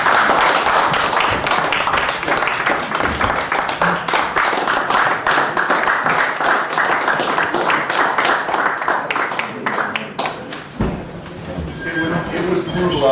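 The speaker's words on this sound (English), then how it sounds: "And I'd like a round of applause." An audience at a town board meeting applauding, loud sustained clapping with dense rapid claps throughout that thins toward the end.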